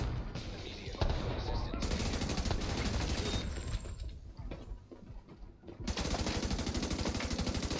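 Rapid automatic gunfire in The Division 2 on PS4, with mechanical clatter and turret support, loud and nearly continuous with a brief lull midway.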